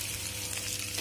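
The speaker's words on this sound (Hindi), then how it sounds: "देखिए हमारी सब्जी जो है कितनी अच्छी प्रकार से यहाँ पे पक रही है।" Potato and pointed gourd curry cooking in a pan: a brief, steady, close sizzle and bubbling with a dense, even texture and no voices.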